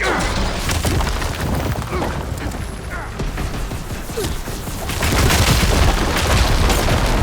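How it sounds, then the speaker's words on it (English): Explosions detonate in the video game Horizon Forbidden West amid continuous loud, dense battle noise, with sharp booming bursts and crashing debris throughout, swelling louder toward the end; a voice shouts over the action. "Detonated!"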